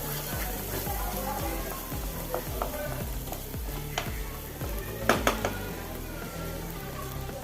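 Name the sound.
stirring pasta masala with salt and pepper in pan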